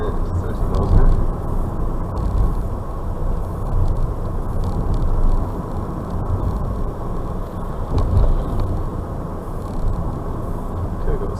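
A car cruising in 4th gear at about 30 mph on urban streets, giving a steady, close rumble of engine and road noise with wind hiss that holds level throughout.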